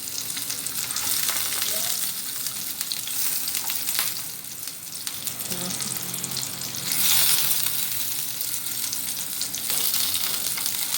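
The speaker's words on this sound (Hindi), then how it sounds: "इसी तरह से सारे कीमे के कबाबों को आपने फ्राई कर लेना" Chicken mince kebabs frying in oil in a pan, a steady loud sizzle and crackle that continues for the whole stretch with occasional stirring clinks, no voices.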